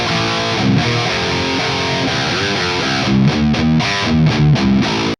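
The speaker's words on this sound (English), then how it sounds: "I've quickly played a riff and I have two microphones on my guitar cab." A distorted electric guitar riff played through a guitar cab and picked up by an SM57 microphone, loud and saturated, with chugging palm-muted rhythmic stabs and a sudden stop at the end.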